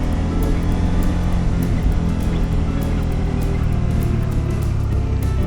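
A 2024 CFMOTO 800NK motorcycle engine while riding, a loud continuous drone under rushing wind from close up, steady throughout with no talk.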